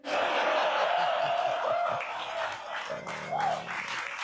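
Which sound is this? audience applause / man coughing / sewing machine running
audience applause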